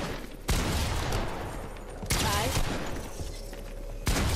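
Gunfire in a ranked Fortnite match, with three sharp broadband bursts about every one and a half seconds, each trailing into a dense, sustained crackle of shots mixed with game effects beneath some talk.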